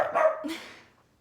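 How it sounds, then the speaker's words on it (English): A dog barks a couple of times nearby, sharp yelps that trail off into quiet. "And Saxon's barking"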